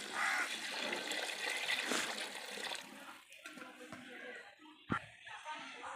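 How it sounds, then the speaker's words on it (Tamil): Water is poured into a pot of chicken biryani, a loud rushing splash for about three seconds that tapers into gentle trickles and a final small splatter. "இப்போ நம்ம தண்ணி ஊற்றிக்கலாம் ஃப்ரெண்ட்ஸ்"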